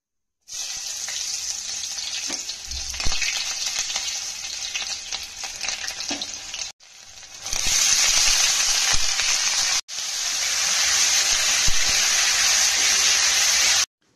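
Eggplant slices frying in a pan at home, a steady loud sizzle running throughout, broken by two short gaps where the hiss briefly drops away before resuming at full strength.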